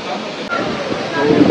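A brief, loud, steady roar of falling water at Shivdav waterfall, rushing without a break.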